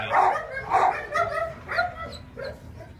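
Dogs at an animal shelter bark and yip in a busy, overlapping chorus, several loud barks early, then smaller whimpering calls trailing off, heard from a moderate distance with kennel reverberation.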